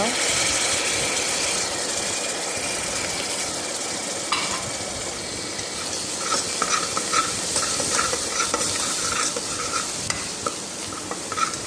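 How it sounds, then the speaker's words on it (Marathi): A ground masala paste is sautéed in oil with Agri red chilli powder, turmeric, garam masala and salt for a brinjal-potato curry, giving a steady sizzle with repeated scraping and stirring clicks of a spoon against the pan. "त्यानंतर त्यामध्ये आता तो केलेला वाटण तो परतून घ्यायचा."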